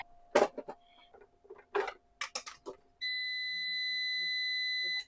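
A backup battery indicator alarm on a power system sounds a loud, steady electronic tone that holds for about two seconds after a few knocks and clicks of handling nearby.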